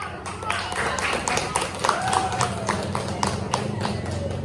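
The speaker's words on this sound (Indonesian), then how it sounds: "Ya, tepuk tangannya." Children in a classroom clap their hands together in a loud, busy burst of rapid claps that carries through the whole stretch, with voices mixed in.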